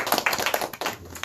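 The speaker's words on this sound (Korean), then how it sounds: "우리 다 같이 하나님 앞에 영광의 박수로 드리겠습니다" A congregation at a Korean church Thanksgiving service claps together in a short spell of quick, irregular hand claps, fairly quiet and without talk.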